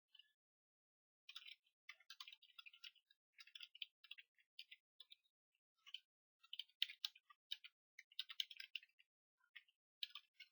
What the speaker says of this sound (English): I'm just going to type it out.